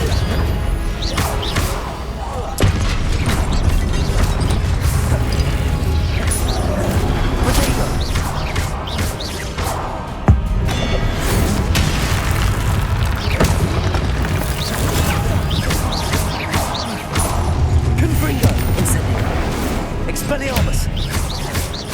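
Spellcasting in Hogwarts Legacy, with Confringo blasts bursting in a loud, continuous barrage of booms, crashes and whooshes, and voices calling out over the battle.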